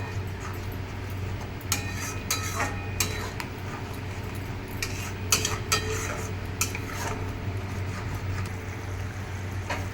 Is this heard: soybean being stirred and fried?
yes